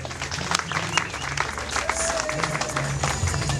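Mourners at a funeral applaud, a steady crowd clapping heard at close range with some voices and background noise mixed in.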